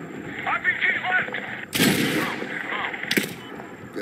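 Heavy gunfire and explosive bursts in the PC shooter Medal of Honor, with a loud blast near the middle and another near the end over continuous rattling battle noise and faint voices, close and dense.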